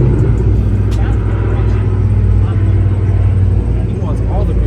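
Idling engine of a Mustang Bullet at a car meet, a deep steady low rumble running throughout, close and loud, with bits of people talking over it.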